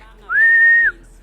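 Single steady whistle blast at a pigeon race, one clear sustained tone lasting about half a second, loud and close, with quiet background before and after.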